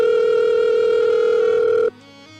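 A phone call goes unanswered as a steady electronic ringback tone holds loud and clear for almost two seconds, then cuts off abruptly into quieter line noise.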